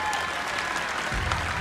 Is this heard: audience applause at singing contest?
yes